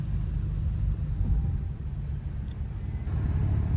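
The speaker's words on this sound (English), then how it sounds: "we're pulling up to the meet right now" Several cars roll up at a car meet, their engines making a steady low rumble that swells and holds close by, with no clear voices over it.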